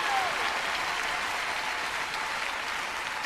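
A large concert crowd applauds at a performance, a dense, steady wash of clapping that fills the whole stretch without letting up.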